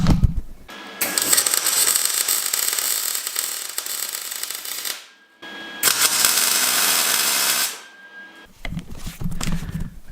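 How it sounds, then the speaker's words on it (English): Welding a final part onto a turbo LS-swapped Mustang, with two long bursts of loud, steady crackling and hissing separated by a short pause and followed by quieter shop noise. "It's going to get welded right here."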